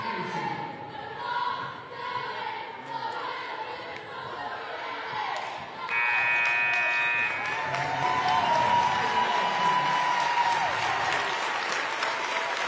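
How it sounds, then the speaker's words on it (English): Applause for the basketball starters at a boys' Buckeye 8 championship game, Cambridge versus Beaver Local: a steady roar of clapping and crowd noise filling the gym, swelling partway through, with an announcer's voice over it. "he'll be coming out here and the other starters to a rousing round of applause"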